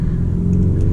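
A Lamborghini Urus SUV accelerates hard, its deep, steady engine rumble droning loud and close from inside the cabin.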